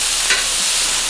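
Shrimp sizzling loudly on a Camp Chef FTG600 flat top griddle, a dense, close, continuous hiss with a brief swell as the food is turned.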